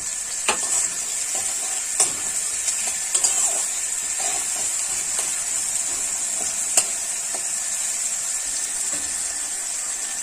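Salted onions sizzle steadily in a pan with little oil as they fry toward light brown, a constant bright hiss broken by occasional clicks and scrapes of stirring.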